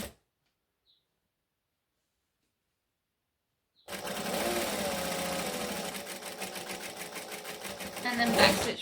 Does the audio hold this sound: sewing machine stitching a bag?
yes